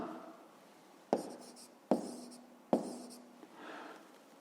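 Three sharp taps mark a pen or chalk writing out a math answer, each followed by a short scratchy stroke, evenly spaced and close in a quiet room.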